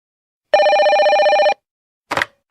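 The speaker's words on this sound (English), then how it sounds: "Hello, can I speak to... the advert doesn't give a name." A telephone bell rings in one loud continuous trill lasting about a second, followed by a short click or handset pickup in quiet surroundings.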